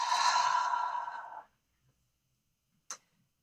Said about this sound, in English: And you release that breath.